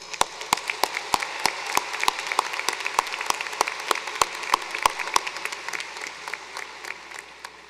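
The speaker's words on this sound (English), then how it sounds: "Let's give them all a round of applause" Applause from a commencement audience at a university spring graduation ceremony, a dense, steady wash of clapping with sharp, louder individual claps popping out at regular intervals throughout.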